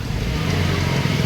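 A milk delivery vehicle on a cloudy Mumbai morning street gives a steady, close motor rumble under broad traffic noise, unchanging for a moment.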